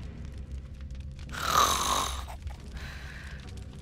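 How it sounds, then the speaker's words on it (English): Loud snoring from a character in the video game Drova: one long, rasping snore swells up and fades over about a second, set against a low droning background with no talk. "Snores loudly."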